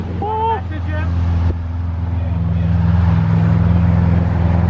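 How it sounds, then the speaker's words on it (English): A Lamborghini Aventador drives at night, heard from inside the cabin as a steady low engine drone and road rumble that swells slightly toward the end, with people talking briefly early on. "This is my first time in an Aventador while moving."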